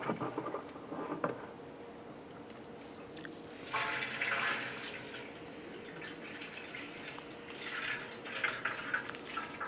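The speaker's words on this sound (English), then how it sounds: "Just going to go ahead and empty out these fluids." Coolant and washer fluid drain out of a 1993-1997 Ford Ranger fluid tank in a steady trickling, dripping patter that swells a little at times, close and fairly quiet, with no talking.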